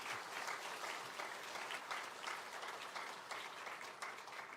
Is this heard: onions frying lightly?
no